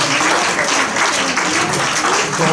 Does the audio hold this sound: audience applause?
yes